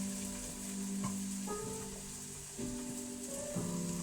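Garlic added to onions frying in a pan gives a steady close sizzle and crackle, with a few soft scrapes and stirring knocks over it.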